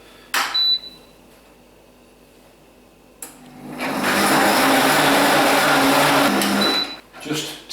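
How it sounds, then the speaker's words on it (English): An Alfawise 2000W high-speed blender whirs with warm water inside, briefly pulsed once, then run for about four seconds in a loud, steady roar before a short final burst, with a voice heard between. "Just turn the blender on for a few seconds."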